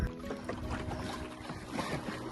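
Small speedboat running fast along a creek in the Konkan coastal region, a steady buzzing motor drone mixed with wind and water noise throughout.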